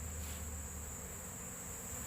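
Honey bees buzz steadily around sugar water feeders in a bee yard, a faint continuous drone with an even hiss that does not change across the moment.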